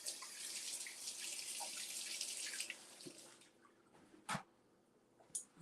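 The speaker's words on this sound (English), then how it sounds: "Let me wash my hands." Running tap water pours steadily into a sink as hands are washed, a continuous hiss that stops partway, followed by a few faint drips and handling clatters.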